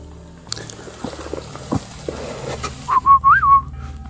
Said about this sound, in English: Something just whistled exactly the way I did it.